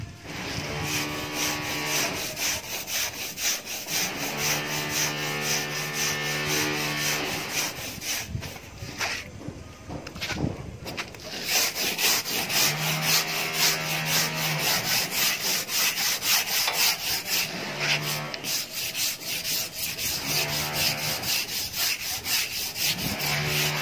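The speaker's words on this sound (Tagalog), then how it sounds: "Ini-steel brush natin yung flooring para matanggal yung mga lumot-lumot." A steel brush scrubs moss and mud off a concrete floor in steady, rhythmic rasping strokes that continue loud and close throughout.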